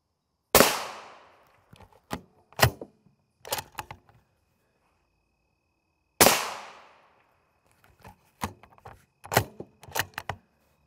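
Gunshots strike an RMA Defense Model 1155 Level IV armor plate: two loud sharp cracks with ringing decay, each followed by a run of smaller separate impacts, with no talk.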